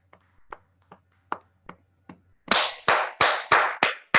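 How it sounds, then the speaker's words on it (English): A few scattered claps from a small meeting audience, sparse and spaced out at first, then several louder, sharper claps close by toward the end, with no voices over them. "Please, a round of applause"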